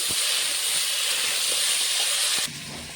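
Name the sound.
vegetables frying in a pan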